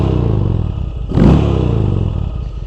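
Arch KRGT-1 motorcycle engine revving hard with a deep induction roar, a single loud surge swelling in the middle and easing back to a steady rumble, heard up close from the rider's seat.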